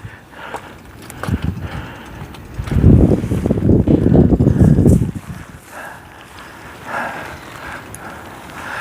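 Gusty wind at a rock wall fishing spot on the Australian coast buffets the microphone, with a loud, low rumbling gust in the middle and lighter, steadier blowing before and after.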